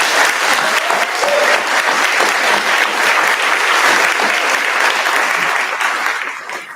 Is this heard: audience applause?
yes